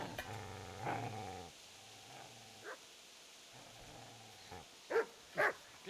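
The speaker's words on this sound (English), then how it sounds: "So see, now the dog is actually there." A dog growls and barks in the video game Kingdom Come: Deliverance, a low rumbling growl broken by pauses, then a few loud, sharp barks near the end, close and clear.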